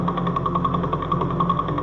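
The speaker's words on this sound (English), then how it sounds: "This is a sound of a pulsar star." A pulsar's radio signal sounds like a steady, dense static hum with a fast regular pulsing throb running through it, continuous and fairly faint.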